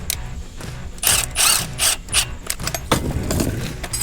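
A hand ratchet loosening an 11mm banjo bolt on a rear brake caliper of a Duramax truck: several short bursts of rapid metallic clicking with pauses between, close up and moderately loud.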